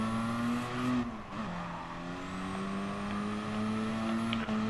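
A car engine driving in the Gran Turismo Sport racing game, a steady sustained engine drone with a brief dip in pitch as it shifts, then holding an even tone, fairly quiet and without talk.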